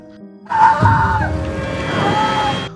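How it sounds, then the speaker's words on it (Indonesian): A loud, sustained woman's scream, high and wavering, over a rumbling, chaotic background of noise. "mereka yang berada di bawah mendengar teriakan sang dokter"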